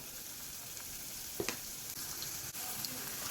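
Onion and tomato sauté in a pan for a green pea and rajma masala curry, a faint continuous sizzle broken by a couple of brief stirring knocks.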